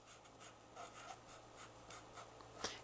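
A teacher writes a sentence in a first-grade lesson, producing faint, quick scratchy strokes in an uneven rhythm, ending with a sharper tap like a period being placed.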